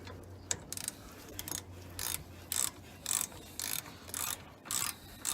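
Ratchet wrench with a size 15 socket tightening a rear brake caliper lock nut on a 2016 Dodge Challenger, heard as several short bursts of clicking strokes with brief pauses between them, close by.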